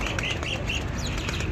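Pigeons taking off and flying at a pigeon-keeping rooftop, a steady flutter of wings mixed with short chirps and calls, fairly close and continuous.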